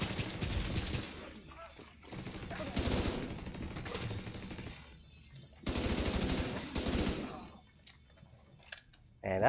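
A deployable turret fires in The Division 2, letting off rapid bursts of automatic gunfire separated by short quiet gaps, with faint game sounds in between.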